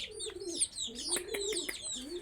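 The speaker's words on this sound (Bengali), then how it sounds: "এই যে কবুতর ডাকতেছে" Pigeons coo close by in low, rolling repeated calls, with higher chirps from small birds layered over them at moderate volume.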